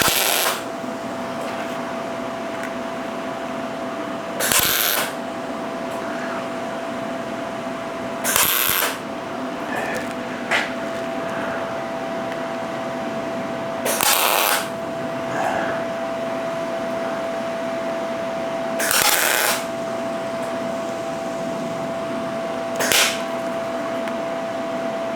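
A metal base gets tack welded in short separate bursts of crackling buzz, about six in all spaced a few seconds apart, over a steady background hum.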